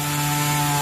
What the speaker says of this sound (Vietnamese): đằng cưa một cái lóng này khá là to